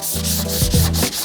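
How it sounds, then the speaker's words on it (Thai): Sandpaper is rubbed by hand across a zinc-coated steel workpiece, making a close, continuous rasping scrape with a few back-and-forth strokes and no voices. "เราจะขัดด้วยกระดาษทรายให้ทั่วบริเวณชิ้นงานนะครับ"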